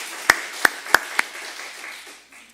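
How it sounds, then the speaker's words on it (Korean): Four sharp, evenly spaced claps ring out close by at a church evening service, each followed by a short echoing decay, then quiet. "박수 한번 할까요?"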